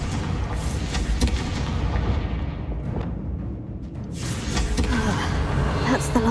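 The Confringo fire spell in Hogwarts Legacy fires off booming blasts, a run of sharp bursts with rumbling tails, fairly faint and spread through a busy game soundscape.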